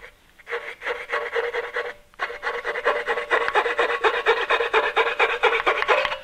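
Rhythmic back-and-forth rasp of a coping saw cutting through wood for a table stretcher joint, close and steady, with a short pause before the strokes resume at a quicker, even pace.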